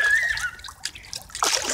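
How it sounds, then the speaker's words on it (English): Water splashes and sloshes in a backyard pool in short loud bursts, with a high squeal and a brief shout mixed in close by. "Some water action happening."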